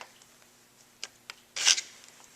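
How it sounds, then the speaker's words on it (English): A scratch mark being made on a Ford 5000 tractor motor from 1966, a few light ticks followed by one short, sharp rasping scrape, close and otherwise quiet. "It is wise to make a little scratch."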